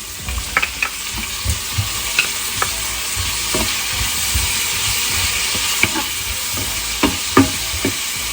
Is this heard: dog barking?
no